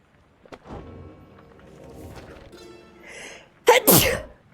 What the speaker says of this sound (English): Always the sneezes.